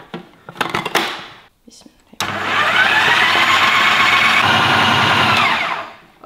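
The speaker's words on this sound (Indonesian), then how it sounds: "Kita blender dulu ini ya." Kitchen blender whirs continuously for about four seconds while blending a kilo of tofu with plenty of garlic, starting abruptly after brief talk and cutting off near the end.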